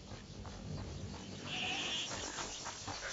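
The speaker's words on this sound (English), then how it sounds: "Listen. Is that the goat you talked about?" A goat bleats in the video game A Plague Tale: Requiem, one drawn-out wavering bleat at moderate distance over a low ambient bed, with no talk.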